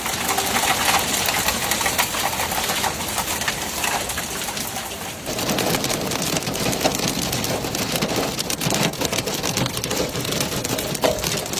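Hail and heavy rain pour down during a severe hailstorm over the farmland of the Matese slopes and Titerno Valley near Benevento, Italy, a dense continuous hiss and patter that gets harder partway through, with a pigeon cooing faintly.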